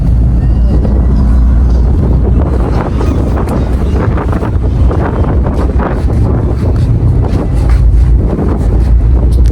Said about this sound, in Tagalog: Alam kong maingay po yung siguro sa hangin,